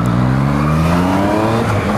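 A Yamaha MT-09 motorcycle's engine drones loud and continuous as it pulls away, its pitch climbing steadily as the bike accelerates, with no voices over it.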